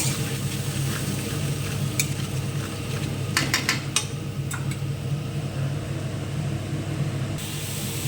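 Spices for a rita fish curry frying and being stirred in a hot pan, a loud steady sizzle and hiss with a few sharp clinks of the spoon against the metal partway through, close up and without talk.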